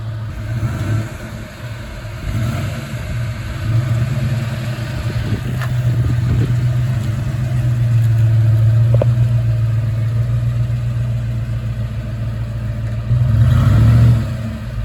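A 1967 Ford Mustang engine revs up and holds at higher RPM in a garage, a steady loud mid-low drone that swells in a final burst near the end, with no talk over it.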